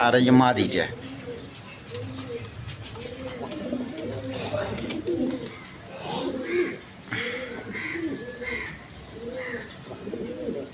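Jacobin pigeons coo in a repeated, rhythmic series of low throaty calls, close by, with a person talking over them throughout.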